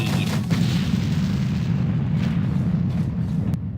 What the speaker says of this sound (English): We're gonna throw the grenade.